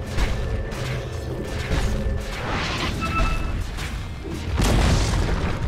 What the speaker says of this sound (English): Dire's top tower is under attack.